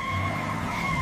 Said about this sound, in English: Crusher is slipping on his own ice.